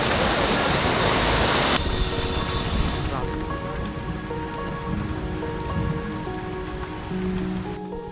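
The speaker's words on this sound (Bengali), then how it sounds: "এখন এই জঙ্গলের ভিতরে বৃষ্টি শুরু হয়ে গেছে।" Steady rain pours through a forest on the route to Parasnath, a dense hiss that is loudest in the first seconds, then continues as a softer, even patter with distant drips.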